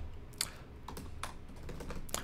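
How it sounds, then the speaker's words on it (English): Typing on a computer keyboard while entering random text in Android Studio: a handful of sparse, separate key clicks at an uneven pace, close but quiet over a soft steady background hum, no voices. "so you can type some random text there"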